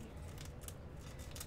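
Scissors cut open a Digimon trading card booster pack, a few faint, quick snips close by over a low background hum, with no talking.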